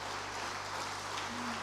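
An audience claps for the German ambassador and the head of GIZ at an opening ceremony, a dense, even wash of applause heard briefly over a steady hum.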